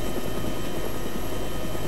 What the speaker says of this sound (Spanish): este es un helicóptero americano